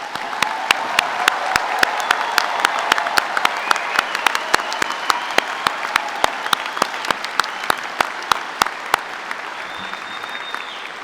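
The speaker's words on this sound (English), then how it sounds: "give them a big round of applause" Audience at a University of Calgary spring convocation ceremony applauds steadily and warmly, a dense sustained clapping from a large indoor crowd with some sharper individual claps standing out throughout.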